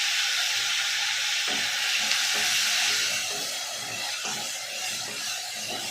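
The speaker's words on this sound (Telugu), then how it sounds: "ఈ కాగిన నూనెలోనే వేసుకున్నాం." Thinly sliced raw ivy gourd pieces sizzle and hiss steadily in hot oil, a continuous bright frying crackle with occasional faint stirring knocks and no talking.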